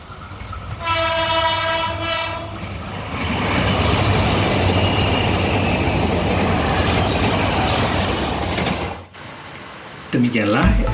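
A high-speed train in the Ambarukmo area of Yogyakarta sounds its horn and then roars past, a long, loud rush of wheel and air noise, before it cuts off and quiet outdoor sounds return.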